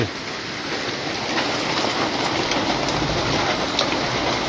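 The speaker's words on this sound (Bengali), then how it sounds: "প্রচুর বৃষ্টি পড়ছে" Dense, steady downpour of heavy rain in Cumilla, Bangladesh, heard from inside a house, a continuous hiss with scattered drop impacts and no voices.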